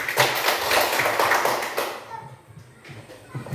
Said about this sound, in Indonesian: Kita berikan tepuk tangan untuk Moren.